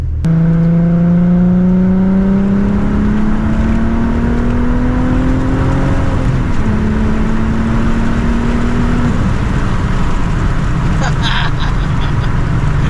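A worn-out VW GTI winter beater with a weak fuel pump pulls hard while driving, its engine note climbing steadily through the gears in long rising sweeps, loud and close with road rumble underneath.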